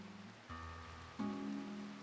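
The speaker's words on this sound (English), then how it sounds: "Listen to that soothing rain sound." Rain falls steadily in the Rimworld video game, a soft constant hiss with faint wind and tonal music layered over it, no voices.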